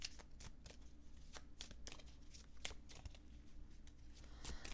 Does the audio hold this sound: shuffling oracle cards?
yes